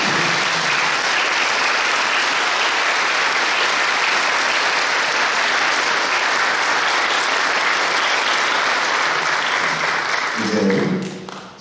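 A church congregation breaks into sustained, loud, dense applause at a pastor's retirement ceremony, filling the hall evenly before tapering off at the end.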